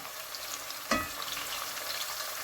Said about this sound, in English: Okay, so I will allow the onions to fry.